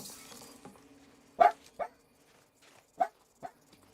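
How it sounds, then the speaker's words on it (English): A dog barks in sharp, separate bursts, two close together and then two more after a pause, loud and near against a quiet background with a faint hum. "Barking his head off."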